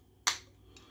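A chilled can of King Goblin beer cracked open: one sharp, close crack with a short hiss trailing off, then a fainter second puff of gas just after.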